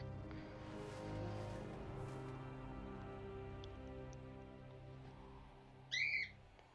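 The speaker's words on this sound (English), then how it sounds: "And the bird's going to scream." A bird lets out a single short, loud screech near the end, cutting above a steady droning fantasy-game soundscape in the Dracthyr starting zone.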